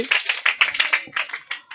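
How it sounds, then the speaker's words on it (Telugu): A congregation at a Sunday worship service claps hands together in a quick, steady burst of about ten sharp, close claps over roughly two seconds. "బా గట్టిగా ఒకసారి చప్పట్లు కొట్టండి"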